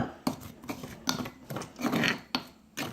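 A spoon scrapes around a pounded, crushed mixture in a mortar, a series of short rasping scrapes and clinks in an uneven rhythm, close and distinct, no talking.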